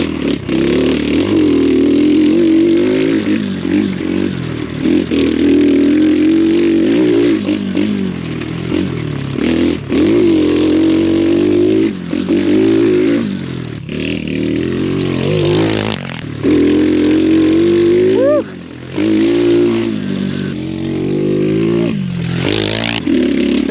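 An X Pro Storm 150 dual sport motorcycle engine revs hard and continuously on a trail, pitch rising and falling as the rider shifts and accelerates, with brief dips and some rattling clatter.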